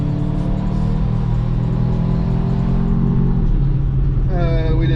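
A 2018 Mercedes-Benz CLA in sport mode accelerating hard from highway speed, its engine droning loudly and steadily inside the cabin, with a rising tone near the end.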